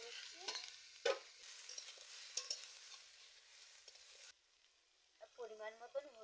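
Cut kohlrabi pieces frying in hot oil in a pan, a steady sizzle with stirring clatter and scrapes, the frying noise dropping away near the end as a voice speaks briefly.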